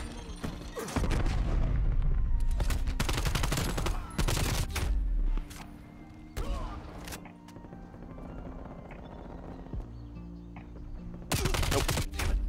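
Rapid gunfire in a shooter video game comes as loud, dense volleys with sharp bursts throughout, along with a few separate shots near the end.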